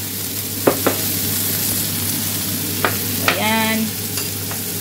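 Ketchup and vinegar are stirred into sautéed pampano in a hot pan, with a steady sizzle broken by several sharp scrapes and clacks of a utensil, and a voice speaks briefly.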